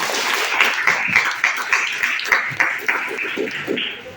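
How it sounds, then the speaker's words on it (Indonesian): Schoolchildren in a classroom clap together, a burst of many small hands making brisk, uneven claps close by that continue for a few seconds and taper toward the end. "Tepuk tangan untuk semuanya."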